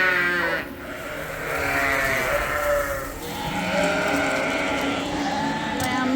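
Sheep bleating in a barn, several loud overlapping bleats close by, drawn out and wavering, continuing through the whole stretch over faint background noise.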